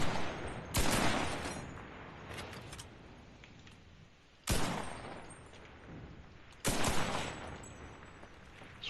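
Weapon fire in the shooter game Enlisted: three loud, sharp single shots spaced a couple of seconds apart, each with a short decaying tail over quiet background.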